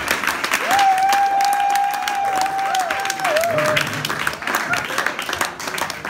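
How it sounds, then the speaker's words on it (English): A concert audience at a tribute show in Luxembourg applauds and cheers, a continuous crowd roar of clapping with a sustained sung or shouted tone riding over it early on. "I want to give you my big round of applause"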